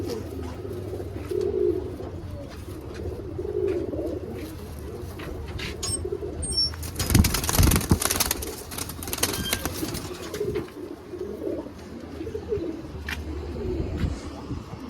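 Home-bred black pigeons cooing steadily in a loft, with soft repeated calls throughout and a burst of wing flapping near the middle.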